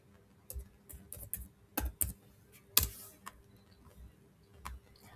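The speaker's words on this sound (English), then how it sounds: "Now let me type any another city," A computer keyboard being typed on with scattered, fairly quiet key clicks, a few sharper taps among them, as a city name is entered into a Telegram weather chatbot; no voices.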